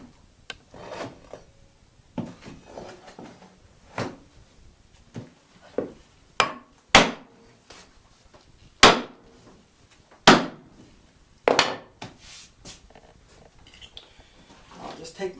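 Iron holdfasts are knocked into a woodworking bench to clamp a board for cutting dado joints: a series of sharp, irregular wooden thumps and knocks, close and fairly loud, with softer rubbing and shuffling between strikes.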